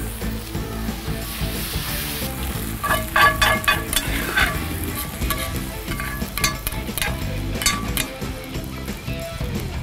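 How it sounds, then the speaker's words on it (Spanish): Sauce sizzles hard in a very hot frying pan while a rib eye with onion and Dijon mustard is finished, a loud, steady crackling hiss broken by bursts of spattering and utensil scraping, up close, with no talk. "Voy a terminar la salsa en el sartén. Esto es bien rápido porque el sartén está bien caliente"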